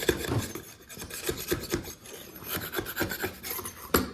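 Sanding the edge of a cut wooden circle, a dry rasping scrape in repeated strokes that swell and fade with short pauses between them, close and steady with no voices.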